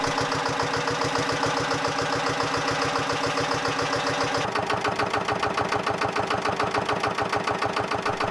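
A vintage Lister LR1 stationary engine runs with a steady, loud rhythmic thumping beat, its tone shifting slightly partway through but keeping an even mechanical pulse from start to finish.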